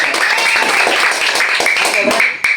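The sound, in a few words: class clapping hands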